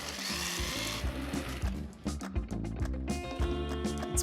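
A blender grinds cashews with dill, Dijon mustard, vinegar, lemon juice, salt and pepper into a coarse crumb, making a fairly quiet, choppy whir that pulses and changes pitch as the blades catch the nuts.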